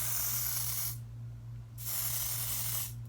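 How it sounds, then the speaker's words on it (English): Dior Airflash aerosol makeup sprayed onto a glass palette in two long hissing bursts with a pause between and a third burst starting at the end, close and steady, over a low constant hum. "I like to spray it on a glass palette."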